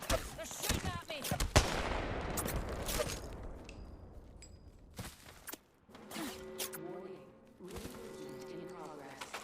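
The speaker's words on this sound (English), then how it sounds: "They're shooting at me." Gunfire in a video game, rapid close shots and bursts of automatic fire in the opening seconds, then sparser sharp cracks and mechanical clatter, with voices talking over the action.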